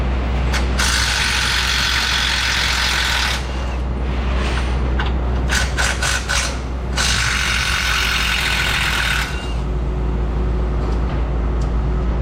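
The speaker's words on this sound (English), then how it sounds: "I actually am going to go ahead and pull these bolts out and drop this sway bar down" Rear sway bar bolts come out of a Cadillac Escalade's rear axle in two long, loud bursts of a power tool, with shorter rattling pulses between them and a steady low hum underneath.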